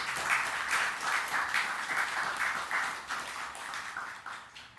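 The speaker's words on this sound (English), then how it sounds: "I think he deserves the first round of applause for his initiative." Audience applause at a book launch in Trinidad and Tobago: a steady, full crowd clapping that holds for several seconds with a slightly surging rhythm, then eases a little toward the end.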